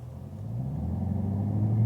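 A 2020 Camaro ZL1 1LE creeps through stop-and-go traffic, its engine a steady low rumble that swells gently as it accelerates, heard from inside with no talk.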